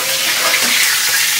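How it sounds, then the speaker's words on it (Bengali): A fish head fries in hot oil in a home kitchen, giving a loud, steady sizzle with bright crackling and no pauses. "আর এদিকে মাছের মাথা ভাজা চলছে"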